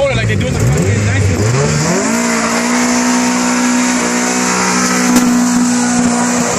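An LS-engined car doing a burnout, the engine revving hard and then holding a loud, sustained high-rpm roar with hissing tire noise, close and continuous throughout.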